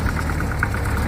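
A tractor engine runs steadily in a pasture, with a low chugging drone and a regular rapid knock pulsing through it at an even rhythm, fairly close and unbroken.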